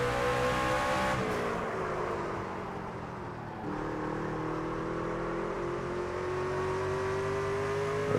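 A NASCAR Craftsman truck engine in a video game at Martinsville, a loud sustained drone that dips as the truck slows for a corner, then climbs steadily again on acceleration.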